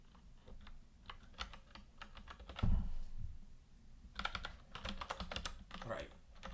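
Typing on a computer keyboard, quick irregular clusters of close, crisp key taps in bursts with short pauses, one heavier thump midway, and a voice speaking in between.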